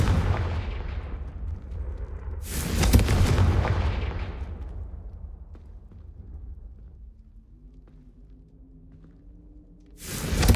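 A Confringo explosion spell cast in Hogwarts Legacy: a loud booming blast opens, a second sharp explosion follows, and rumbling debris fades into quiet before another burst hits at the end.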